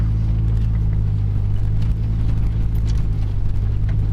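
A lifted two-wheel drive van on the dirt Roadrunner Trail gives a steady, loud low engine and road rumble that holds constant throughout, with faint rattles and bumps over the top and no talking.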